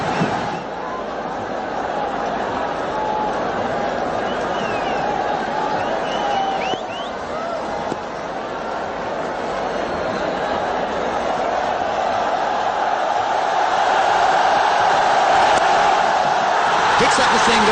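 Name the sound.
cricket stadium crowd cheering a six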